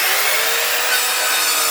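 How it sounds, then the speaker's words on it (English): A saw cuts through a 10mm acrylic base plate in a continuous, loud, harsh rasping stroke that fills the whole moment without pause. "So let's saw our base plate out."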